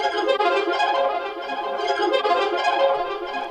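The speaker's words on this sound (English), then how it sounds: "I added this Portal preset called Arpomatic," Dark experimental sample through the Portal Arpomatic preset, a dense shimmering wash of ringing, warbling granular artifacts, steady and fairly loud with no voices.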